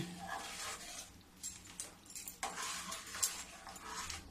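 Tamarind chutney being stirred in a pot over low gas: a spoon scrapes and clinks against the metal in irregular quiet strokes, close by and faint.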